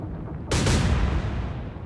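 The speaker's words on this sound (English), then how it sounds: "T-22 is firing again." Heavy naval gunfire from the enemy destroyer T-22 in the naval strategy game Atlantic Fleet: a sudden loud broadband blast that lingers as a rumbling roll for over a second, with no voices.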